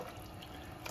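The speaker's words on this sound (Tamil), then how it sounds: "இப்ப நம்ம மோர் சேர்த்திக்கலாம்." Buttermilk poured into a Tamil kuzhambu curry made with pumpkin, giving a steady, close splashing pour for the whole second.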